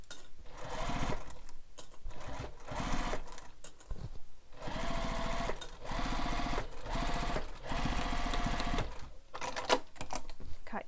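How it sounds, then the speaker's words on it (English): A sewing machine stitches around the curves of a beach bag with its lining facing out, running in loud rapid bursts separated by short pauses as the fabric is turned. "I'm just sewing all the way around, going around those curves."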